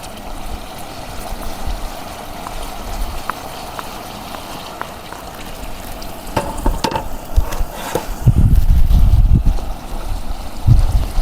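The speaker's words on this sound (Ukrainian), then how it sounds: "Закидаю я цибульку з морковкою. Хай обсмажується." Onion and carrot fry in a pan as the base for a lentil soup. Steady close hiss and crackle continue throughout, with stirring and clatter from the pan toward the end.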